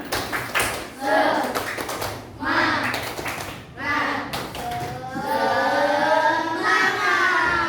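A class of children claps a rhythmic spirit cheer in a classroom, with patterned bursts of claps mixed with loud chanting voices throughout.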